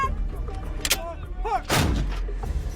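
A US Army howitzer cannon fires during artillery training at Fort Sill, Oklahoma: a sharp blast, then a heavier, louder boom that rolls into a long rumble, with faint voices in the background.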